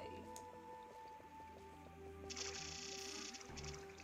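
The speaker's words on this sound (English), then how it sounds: "Taking a nice stroll through the water" Squishy, dripping water splashes as Pikmin wade through a pond in the Pikmin video game, soft and repetitive under steady background game music, with a brighter splashy burst partway through.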